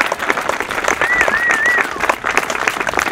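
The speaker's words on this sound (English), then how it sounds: "let's give them a big round of applause" Applause from a crowd at the grand opening of community athletic fields, dense continuous clapping close by with a whistle and cheering voices mixed in.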